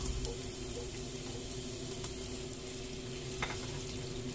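Garlic frying in a pan, a constant close sizzle and crackle with occasional stirring scrapes, steady and fairly quiet throughout.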